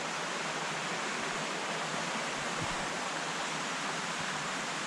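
A small waterfall at a park in County Sligo, Ireland, gives a steady, dense rushing of falling water, constant and fairly close, with no voices.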